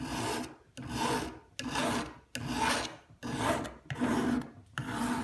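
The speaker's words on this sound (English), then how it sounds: "You can always hear when the file is cutting. It just makes a different sound." Metal file sharpening a pizza wheel, rasping in steady back-and-forth strokes, about seven rough scraping passes with brief pauses between, close and fairly loud.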